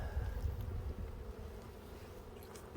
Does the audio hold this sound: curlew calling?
no